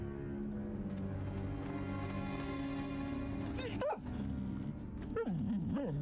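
A small dog in the video game Little Orpheus yips and whimpers over a steady bed of game music and ambience, with a couple of short, rising barks near the end.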